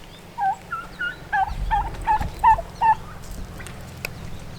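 A turkey gobbles in a rapid series of close, loud calls at an afternoon spot near an apple orchard, over a low steady background hum.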